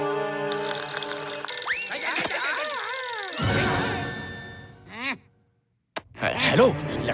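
A phone rings with a bright electronic ringtone tone that sweeps and warbles, steady and loud, then cuts off before another burst of sound, in a cartoon police call scene.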